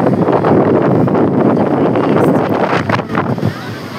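Sea waves wash in under gusting wind on the beach at Puri, a continuous broadband roar with buffeting wind on the microphone and occasional brief surges.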